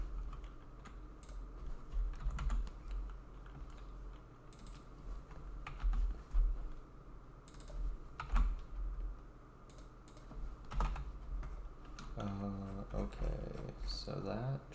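Keys clatter on a Mac computer keyboard in quick irregular bursts during a live coding stream, moderately close but fairly quiet, with someone talking at times.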